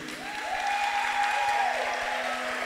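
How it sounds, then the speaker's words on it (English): Sustained applause from a crowd at a temple event in Brooklyn, a dense steady wash of clapping with a held sung or shouted tone and a continuous hum beneath it. "Can I get a round of applause?"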